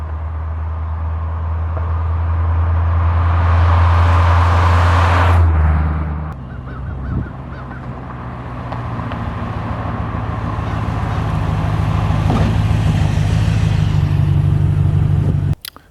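A C4 Corvette with a freshly rebuilt manual transmission drives on the road. Its engine drones low and steady, then a brief dip around a gear change leads into renewed revving under load, close and fairly loud.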